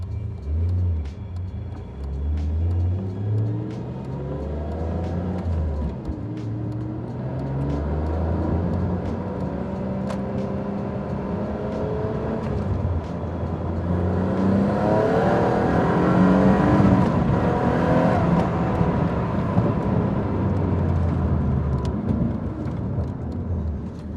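A Noble M400 sports car out on a test drive, its engine droning steadily and rising through the gears as it accelerates, loud and continuous with a deep rumbling tone and no talk.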